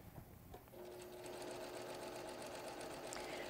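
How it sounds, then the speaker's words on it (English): A sewing machine stitches strips of a quilt block together, starting up after a moment and then running in a steady, close, rapid hum of needle strokes without pause. "give it a quick stitch."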